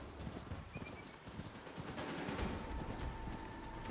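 A ridden mount in Horizon Forbidden West gallops with a steady, rapid clatter of hoofbeats and a brief whinny, while combat noise rattles in the background.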